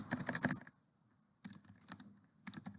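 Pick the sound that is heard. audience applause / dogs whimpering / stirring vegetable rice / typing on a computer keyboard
typing on a computer keyboard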